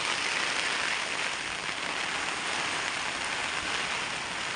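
Heavy rain pours steadily over flooded farmland in a village in Gingee taluk, a dense, unbroken hiss with no let-up.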